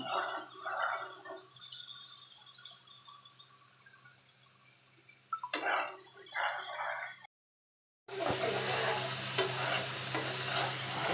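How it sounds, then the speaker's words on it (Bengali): Spice masala being sautéed in a pan for a pangas fish curry, with soft sizzling and stirring scrapes that pause briefly, then return as a louder, dense sizzle. "মশলাটা কষায় নেব।"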